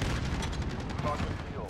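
Rapid automatic fire from a Bruen MK9 in Modern Warfare, a loud, continuous rattling burst of closely spaced shots with a voice faintly underneath.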